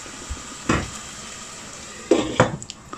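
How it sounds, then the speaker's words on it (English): A metal lid is set onto a pot of onions slowly frying in oil on low-medium heat, giving a couple of close clanks and scrapes over a soft, steady sizzle. "Now I'm going to close the lid."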